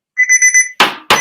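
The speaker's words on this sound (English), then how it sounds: "we await the buzzer" An electronic auction buzzer sounds with a short pulsing beeping tone, followed by two sharp, loud knocks like a gavel banging, close and with no talking.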